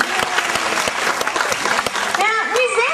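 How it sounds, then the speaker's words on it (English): A crowd at a fur seal show in Sydney bursts into loud applause for a New Zealand fur seal. The clapping holds steady, then a voice rises over its final moments. "A big clap for Mav."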